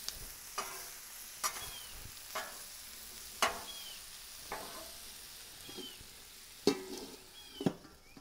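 Potatoes fry on a Blackstone griddle under a dome, a faint steady sizzle broken by sharp scraping and tapping clicks every second or so.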